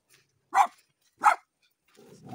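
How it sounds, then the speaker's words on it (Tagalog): A dog barks twice from a short distance, two sharp separated barks in quiet, followed by faint rustling. "May aso."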